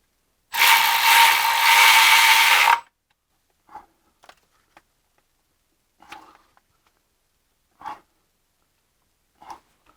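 A ratchet cranks down oil pan gasket bolts on a BMW E90 with the N54 engine: one long, loud, continuous burst of rapid clicking, then several short, quieter ratchet strokes spaced a second or two apart.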